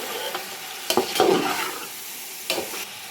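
A spoon scrapes and stirs spices with coriander powder in a frying pan for chicken pulao, with a few sharp knocks against the metal, a soft sizzle running underneath, with no talking.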